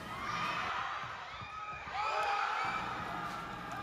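A crowd cheers after goals at a futsal match, a sustained mass of shouting and high-pitched youthful voices that swells partway through and stays loud, with echoing indoor roar beneath.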